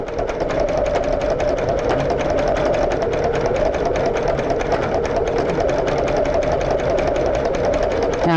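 A sewing machine needle doing heavy embroidery stitching on a rug project hammers out a rapid, continuous, loud chugging rhythm up close with no voices.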